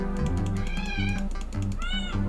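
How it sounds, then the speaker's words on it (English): A cat in Slime Rancher 2 meows when petted, producing several clear, close meows over a steady electronic game music backdrop. "Can I pet the cat? I can pet the cat."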